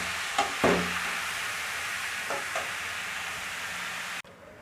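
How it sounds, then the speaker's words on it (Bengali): Chopped bottle gourd being stirred with spices in a pan: a steady sizzle with a few scraping stir strokes near the start and middle, cutting off sharply just before the end into quieter background. "লাউটা আমি ভালোভাবে মিশিয়ে নেব"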